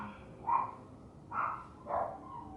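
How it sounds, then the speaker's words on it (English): Dogs next door bark three times, spaced out and muffled at a distance, with no talk over them. "if you hear those dogs, those are the neighbor's dogs"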